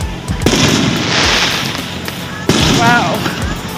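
Fireworks bursting over downtown Comfort, Texas, with booming explosions and crackling, sharp reports near the start and midway, while people talk and exclaim throughout.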